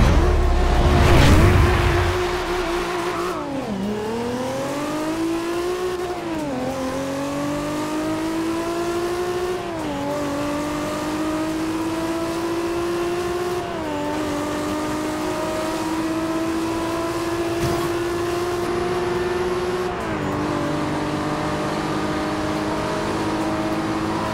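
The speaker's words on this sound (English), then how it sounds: "The star of the original Fast and the Furious Supra defeats Paul Walker's personal Supra" Toyota Supra race cars in Forza Horizon 2 rev hard from a standing start, then hold a loud, steady engine drone through repeated upshifts, each gear change dropping the pitch before it climbs again.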